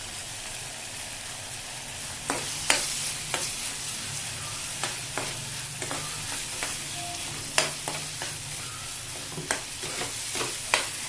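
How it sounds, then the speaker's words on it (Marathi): Paneer masala gravy with red chilli powder sizzling in a pan over high heat, a steady low fry broken by sharp scrapes and clacks of a spoon stirring. "आता ही ग्रेव्ही परतायची."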